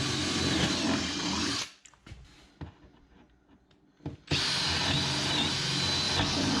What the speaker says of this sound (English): Now I'll take a 3/8 drill bit and drill the holes for the mounting screws.